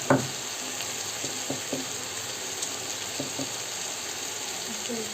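Soaked, drained rice sizzling in a pan of vegetables for veg pulao, a steady frying hiss broken by several light scrapes and taps as the grains are added.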